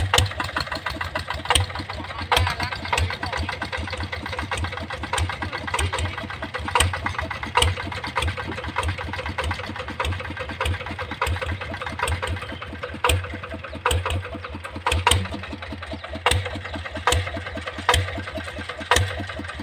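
A steady ZT 155 diesel engine idling close by, with a regular pulsing exhaust beat and periodic sharper knocks, running alone with no talk.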